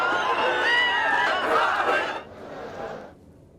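A crowd of Maratha protesters at Mumbai's Churchgate station shouts slogans in a loud, close burst of overlapping voices, then drops to a quieter murmur before fading out.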